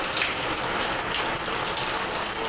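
Rainwater pours and gushes steadily through a leaking roof during a typhoon, a dense, continuous rush of flowing water close by, with no pauses across the short stretch.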